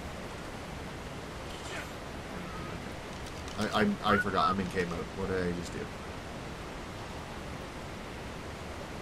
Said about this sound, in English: we're right next to a waterfall. So it might be a little loud here